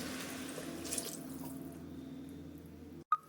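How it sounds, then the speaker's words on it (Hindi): Water poured into a pan of half-cooked vegetable pulao, heard as a steady soft splashing and trickle that runs for about three seconds and ends abruptly, followed by a brief clink. "अब इसमें हम पानी डाल देंगे"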